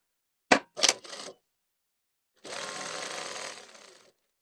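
Sewing machine stitching through two layers of a pocket bag: a few short clattering bursts of stitching, then a longer continuous run of machine whirring after a pause.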